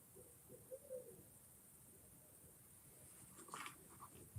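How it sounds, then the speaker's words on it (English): An owl hoots a few soft, low calls near the start, faint and distant, followed by quiet rustling. "It's an owl."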